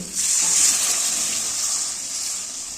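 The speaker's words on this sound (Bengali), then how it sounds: "এবার একটু গরম জল দিয়ে দেব।" Hot water pours steadily into potato curry (aloo dum) in a cooking pan, a continuous close splashing gush that stays loud throughout with no talking.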